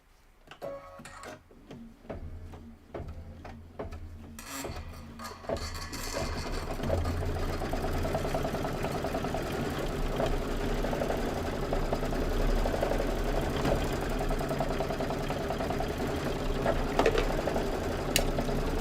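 A domestic sewing machine stitches a fabric quilt piece for a spring-themed sew-along project, starting with a few clicks and then running as a steady, continuous mechanical whir close by for most of the stretch, with no talking.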